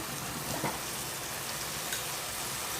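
Boiled, reduced milk poured into a pan of ghee-fried bread sets off a loud, steady hiss and crackle of sizzling, with brief louder spurts and no talking.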